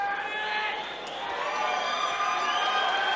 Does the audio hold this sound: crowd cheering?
yes